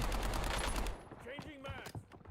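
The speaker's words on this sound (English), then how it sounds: "Incoming fire!" Rapid bursts of automatic gunfire crackle at close range in a Call of Duty Rebirth Island match, followed by a short gap with game sounds while a voice speaks over the action.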